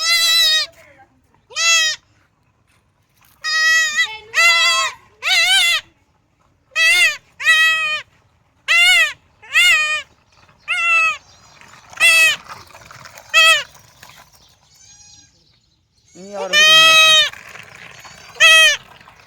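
A goat bleats repeatedly and loudly close by, with more than a dozen wavering calls in irregular bursts separated by short quiet gaps.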